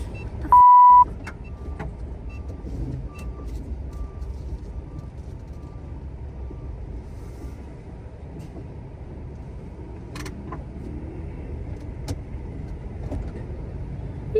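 A truck rumbles along behind a minivan on a road, a steady low engine drone that carries throughout, with a short electronic beep near the start.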